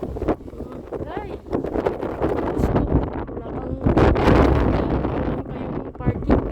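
Strong wind during a snowstorm roars and buffets the microphone in loud, uneven gusts, with a person talking through the noise.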